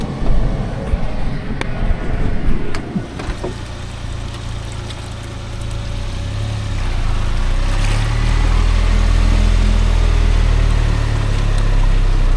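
Suzuki Jimny JB23W crawling a muddy trail in first gear, the low engine drone steady and close under splashing and sloshing water, with a few knocks and thumps early on.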